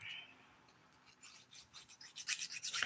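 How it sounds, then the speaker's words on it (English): A 180 grit nail file rasping across fingernails during shaping, soft close strokes that grow faster and louder toward the end. "Now I'm using the 180 grit side of the file to do this work."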